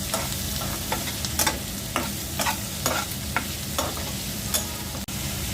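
Shrimp fry in mustard oil with onion, garlic and green chili, a steady close sizzle broken by repeated scraping stirs of a spatula in the pan.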